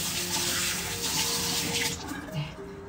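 Tap water runs steadily into a sink as hands are rinsed, a continuous close splashing hiss that thins out toward the end.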